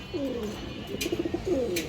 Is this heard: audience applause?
no